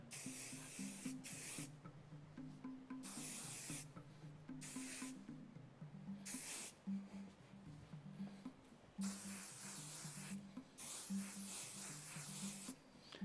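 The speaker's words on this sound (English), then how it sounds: "Now take your can of trusty hairspray and lightly spray all over the head" Repeated short bursts of hairspray from an aerosol can hissing close by over a head of hair, separated by pauses and soft rubbing sounds, quiet overall.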